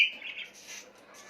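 Small pet birds in a cage give a few thin, high chirps and tweets, faint and close, in a short quiet moment with no talking.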